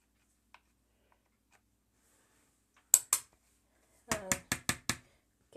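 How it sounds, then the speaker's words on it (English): Makeup from a dumpster dive having its top layer scraped off with a small tool: a pair of sharp scrapes, then a quick run of five crisp, close strokes, with near silence between. "I'm going to scrape it like this."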